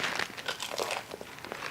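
Someone bites into crunchy fried green plantain topped with garlic and cilantro mojo sauce, giving a quiet, close run of crisp crackling crunches with no talking.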